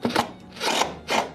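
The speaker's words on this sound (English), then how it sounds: "It's putting the drill in, look." A drill being put in during garden work near Hadrian's Wall, making three rough, rasping grinding strokes against wood or earth, close and fairly loud, with no talk over it.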